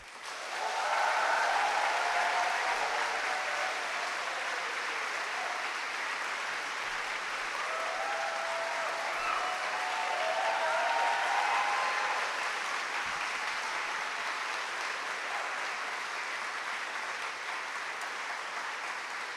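An audience welcomes Mohammed El-Kurd to the stage with sustained applause filling the room, a dense steady wash of clapping that swells and eases over about twenty seconds.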